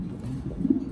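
A Mondain pigeon in a loft with newly hatched chicks gives a single brief, low, throaty coo, heard close and alone.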